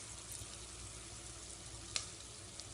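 Vegetables sautéing gently in a pan for a vegetarian chicken-style korma, giving a faint, steady, even hiss with one brief soft tap near the end.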